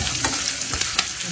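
Chana dal, urad dal, dried red chillies and curry leaves fry in hot oil, crackling and sizzling steadily close up, with a few sharper pops and stirring scrapes and no voices.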